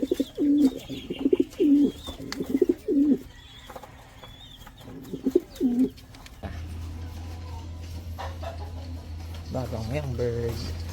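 Pigeons coo in a new loft, with repeated rolling, low calls close by in the first half, then a steady low hum takes over and a person speaks near the end.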